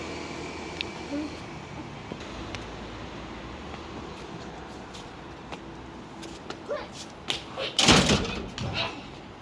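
A door opens at a home entrance, with small clicks and a louder rattling clatter near the end over a hushed background, and people talk nearby.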